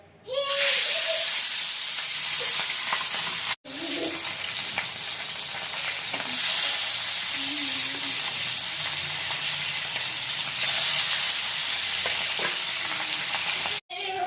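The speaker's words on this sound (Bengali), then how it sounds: "আর এখন আমি মাছগুলো দিয়ে নেব।" Pabda fish dropped into hot oil in a pan, giving a loud, steady sizzle and hiss that runs almost unbroken for the whole stretch, with brief cuts and faint stirring.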